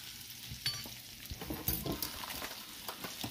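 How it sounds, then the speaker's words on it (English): Salmon fillet basted in a pan of browning butter with rosemary, giving a low continuous sizzle with soft spooning and stirring clatter and small irregular spatters, heard close with no talking. "And what I want to do is just baste."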